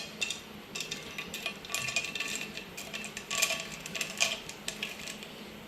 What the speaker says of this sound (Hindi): तो अब मैं इसके अंदर डाल रही हूँ पिस्ता।